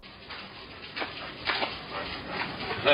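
A dog whimpers and makes soft yipping sounds a few times, close by and fairly quiet, with no talking.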